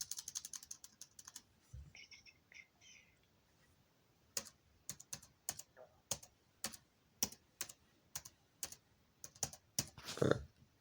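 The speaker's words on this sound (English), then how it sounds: "I was typing and it wouldn't go in, and I clicked it twice" Someone types a Wi-Fi password on a computer keyboard, giving a steady run of sharp, close key clicks with short pauses, a few quieter taps early on and a firmer burst of keystrokes near the end.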